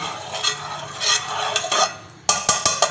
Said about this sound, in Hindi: ये बनास्पति घी है, मैं इसमें ऐसे डालूँगी, थोड़ा थोड़ा डालती जाऊँगी